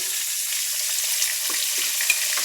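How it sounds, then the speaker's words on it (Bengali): Pointed gourd (potol) slices frying in a generous amount of oil in a home kitchen, a close, steady bright sizzle with faint crackles and small pops throughout. "পটলগুলো একটু লাল করে ভেজে নেব, একটু তেল বেশি লাগবে।"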